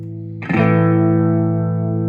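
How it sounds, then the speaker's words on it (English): A single electric guitar chord struck through a Fender Champion 20 amp with reverb and chorus, ringing out loud and sustained with a wavering, shimmering decay. "So this is a reverb and a chorus."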